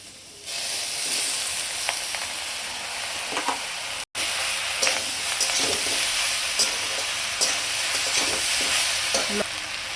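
Pasta sizzles steadily as it fries in a salted pan, with a constant crackling hiss and occasional stirring scrapes. A brief cut interrupts it midway.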